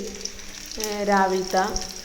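Vegetables fry in a pan with ground coconut, a soft steady sizzle running beneath a voice as she talks nearby.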